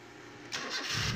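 Car engine starting in a garage during an air-conditioning test, a sudden loud crank and catch that swells into a rough running roar within the second.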